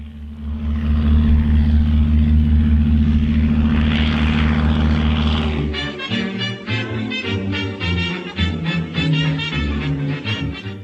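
A de Havilland DH-60 Gipsy Moth biplane's propeller engine drones loud and steady, then shifts to a rougher, pulsing, throbbing note as the engine changes pace.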